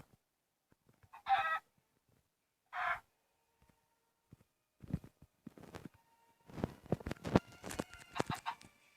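A few Minecraft chicken clucking calls ring out in short bursts, followed by a cluster of clicks and clatter, fairly quiet with gaps of silence.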